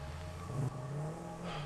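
Vehicle engine from the video game Satisfactory, a steady droning motor with a brief rise in pitch as if accelerating, continuous and moderately loud with no talking.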